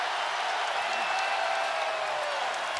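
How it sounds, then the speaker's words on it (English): A packed arena crowd at a 2025 NBA playoff Game 4 between the New York Knicks and Boston Celtics roars and applauds in a broad, sustained wash of cheering as the Knicks close in on victory, with a commentator's voice faintly mixed in. "And the crowd starting to celebrate."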